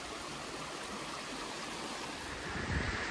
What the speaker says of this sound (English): there's little cascades of water